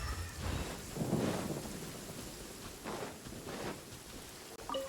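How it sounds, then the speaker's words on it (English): Rain falls in a video game during a troublesome-work quest, a soft, faint hiss of rain and wind with low rumbling swells rising and fading several times, with no voices. "It's raining again?"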